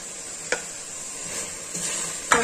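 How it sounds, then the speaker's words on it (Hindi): Onions and bell peppers go into a pan and are stirred, giving a soft sizzle with a few sharp spoon scrapes against the metal, quiet and close. "तो अभी हम इसमें डाल देंगे प्याज और शिमला मिर्च"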